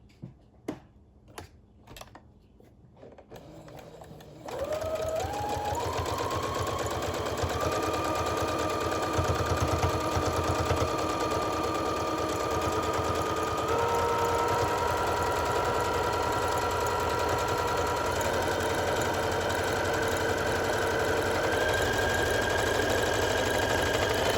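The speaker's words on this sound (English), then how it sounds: "I'm now going to turn under that edge and stitch it down." A sewing machine stitches down the turned-under edge of a box cushion cover, starting after a few light taps and then running in a steady, continuous whir that holds close and loud to the end with no talking.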